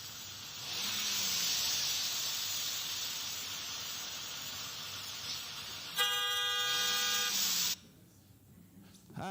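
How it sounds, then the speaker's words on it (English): A continuous hiss of passing traffic, then a single loud, sustained car horn blast lasting almost two seconds before cutting off abruptly. "The rude guy in a rich car honking at an elderly woman."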